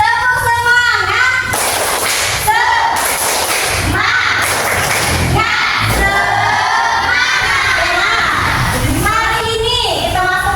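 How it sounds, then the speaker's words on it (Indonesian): A class of children does the tepuk semangat clapping chant, with loud, rhythmic bursts of clapping mixed with shouted chanting voices and cheering that fill the clip. "Oke, kita sama-sama tepuk semangat ya."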